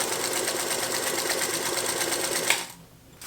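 A Singer Featherweight sewing machine stitches muslin cotton fabric in a steady, fast whirring run close by, then stops abruptly near the end.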